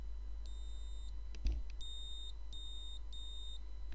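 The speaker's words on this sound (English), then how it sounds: "it makes a beep sound" High-pitched multimeter continuity beeps sound in short bursts, four of them in a few seconds, close and clear, with a small bump of handling noise between.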